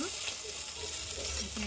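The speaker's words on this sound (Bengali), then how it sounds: "এখানে ভালো করে ভেজে নিই" Fish fries in hot oil in a home kitchen pan, a close, even sizzle and crackle that continues without a break for the whole short moment.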